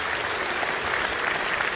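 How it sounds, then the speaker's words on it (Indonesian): A crowd applauds loudly and steadily at a charity event in Jakarta, a dense wash of clapping with no pauses, close and continuous throughout. "Kita berikan tepuk tangan yang paling meriah untuk acara hari ini."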